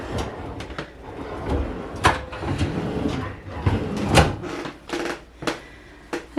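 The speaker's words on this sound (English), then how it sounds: "so that I can open the bottom drawer." A bottom pantry drawer is pulled open and pushed shut repeatedly, giving a series of close, sharp wooden slides, knocks and thuds spaced irregularly, with no talk.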